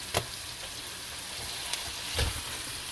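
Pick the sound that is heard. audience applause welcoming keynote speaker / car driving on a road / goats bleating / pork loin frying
pork loin frying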